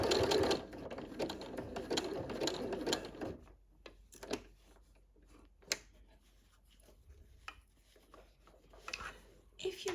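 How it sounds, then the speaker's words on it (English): A sewing machine runs a zigzag stitch in contrasting thread on fabric for an elastic bookmark, with a busy mechanical whir for the first few seconds, then stopping to quieter clicks and faint handling sounds. "zigzag stitch in a contrasting colour, and I'm going around twice with slightly different stitch widths and lengths"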